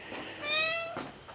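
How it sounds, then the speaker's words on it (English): A house cat gives a single clear meow, close and fairly loud, rising and falling for about half a second amid quiet room noise. "I see my cat wants to help."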